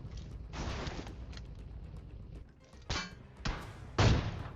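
BGMI in-game gunfire lands a headshot, a few sharp bursts of shots spread apart against a quiet background, fairly faint.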